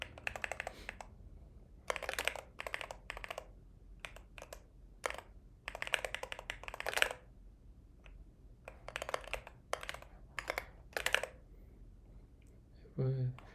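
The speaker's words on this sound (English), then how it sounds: "That keyboard sounds so crispy." Crisp, clicky keystrokes on a computer keyboard come in quick bursts separated by short pauses, close and fairly quiet over a low background hum.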